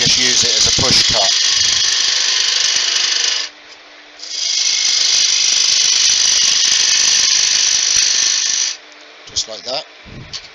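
A spindle gouge makes push cuts on a candlestick turning on a wood lathe. Two long, bright hissing cuts are separated by a short pause, with a motor hum underneath and brief voice sounds at the start and end.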